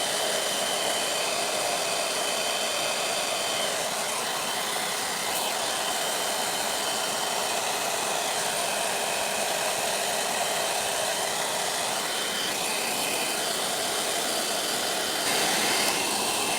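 A hair dryer blows steadily and close by, drying glue on a paper napkin-art craft piece, a continuous broadband whoosh with no break over the whole stretch.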